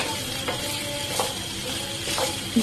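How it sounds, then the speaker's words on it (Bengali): Okra frying lightly in oil in a pan over a low to medium gas flame, a constant close sizzle broken by a few soft scrapes of a spatula stirring. "ঢেঁড়স টাইম ভেজে নিচ্ছি, একটু হালকা ভেজে নেব।"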